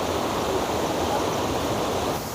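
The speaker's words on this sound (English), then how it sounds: "So this is the Grey Mare's Tail waterfall." The Grey Mare's Tail waterfall in Dumfries and Galloway, Scotland, a steady, even rush of falling water heard from nearby with no voices.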